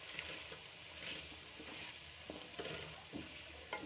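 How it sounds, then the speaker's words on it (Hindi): Vegetables for chow mein sizzle steadily as they fry in a pan, with faint scraping stirs and small taps of the spoon throughout. "अब हम इसे हिलाएंगे।"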